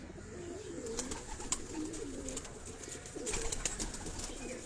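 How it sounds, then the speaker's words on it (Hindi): Pigeons, including Jounsre and other breeds, coo softly in repeated low throaty phrases from a rooftop loft, with faint chirps and background hiss behind them. "जिनमें जौंसरे कबूतर हैं और 1 2 3 4 नस्लों के कबूतर आपको"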